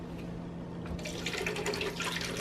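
Coconut water poured into a blender for a smoothie: a steady splashing, gurgling stream that starts after a brief pause, close and moderately loud, no talking.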